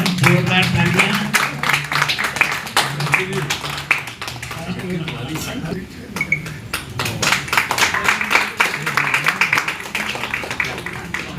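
Applause and clapping at a Rotary Club gathering welcoming a new team, steady dense claps sustained throughout with crowd noise and voices mixed underneath.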